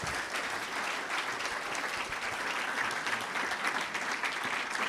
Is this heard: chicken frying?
no